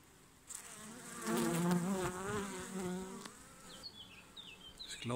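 Honeybees buzz steadily at the hive during a swarm inspection, a dense close drone with wavering pitch that swells and eases, with a few brief higher chirps near the end and no talking.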